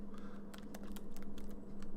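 Quick, uneven bursts of keystrokes on a computer keyboard resting on a raised pedestal, close and fairly quiet clicks over a constant low electrical hum.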